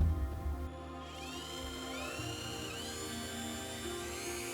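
A power drill bores the first hole into a homemade wooden bedside table, its motor whine climbing in pitch and then holding a steady drone, close and alone without speech.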